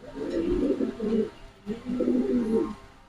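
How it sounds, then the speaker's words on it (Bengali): Boat-beak pigeons at a farm coo in two low, rolling bursts separated by a short pause, close by and clear, with no talking over them. "বোট ঠোঁটের কবুতর"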